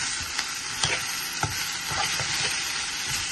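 Okra and onions frying in a pan while being stirred, with a steady close sizzle broken by repeated scraping and clacking of the utensil against the pan.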